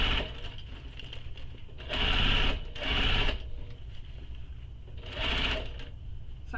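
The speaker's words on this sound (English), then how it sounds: "so if I'm sewing along and I'm coming up to that dart" A sewing machine stitching a handbag runs toward a dart in three distinct bursts of whirring, pausing briefly between runs, close and alone with no talk.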